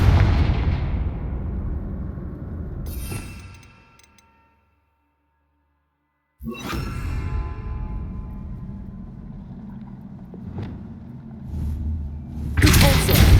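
Confringo fire spell explosions in Hogwarts Legacy: loud booming blasts with long decaying rumble, a silent gap, then another sharp burst and a final loud blast, with a voice speaking in the mix.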